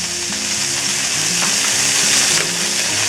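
A piece of butter melting in a hot pan over lowered heat crackles and sizzles loudly and steadily up close, with a dense hiss and spattering pops and no talking.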